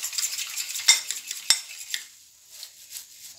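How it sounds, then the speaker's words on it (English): An egg being beaten for egg wash with a utensil in a bowl: quick, light scraping clicks in an uneven rhythm, with a couple of sharper taps against the bowl, close and fairly quiet. "I need to beat the egg. Because we're going to be using this egg wash."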